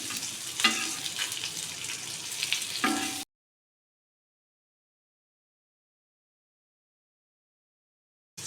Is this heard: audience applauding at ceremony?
no